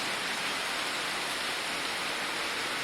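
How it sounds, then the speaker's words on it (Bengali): Heavy rain falls outside a home, a dense, even hiss of downpour that holds steady throughout with no gaps, no distinct drops and no voices. "বাইরে ঝমঝম করে বৃষ্টি পড়ছে"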